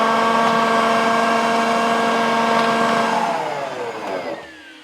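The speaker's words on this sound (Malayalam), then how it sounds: "ഓണാക്കിയിട്ട് ഓരോ ഉള്ളി ഇങ്ങനെ ഇതിലിട്ട് കൊടുക്കുക." An electric food processor whirs with a steady, loud motor whine as onions are fed in one by one for chopping, then spins down and fades near the end.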